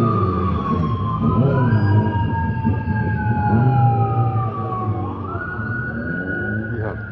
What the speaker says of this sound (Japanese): なんかサイレンがあちこちから聞こえるんで